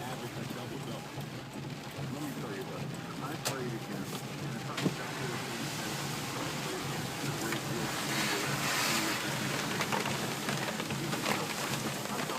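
A car drives slowly along a flooded road near Belhaven Creek, with a steady wash and splash of water under the tires and a continuous hiss that sounds close and constant throughout.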